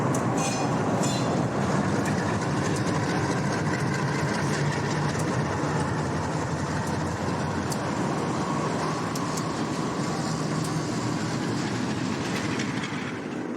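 A Conrail B23 diesel locomotive train rolls past on the Boston line, a continuous loud rumble of engine and wheels clacking over rail joints with no talking.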